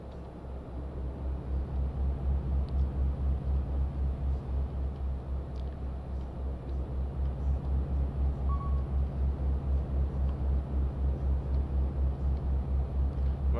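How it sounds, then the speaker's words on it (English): A truck drives in the video game Euro Truck Simulator 2, its engine giving a steady low drone with a faint regular pulse, unbroken and alone throughout. "I'm just driving my truck."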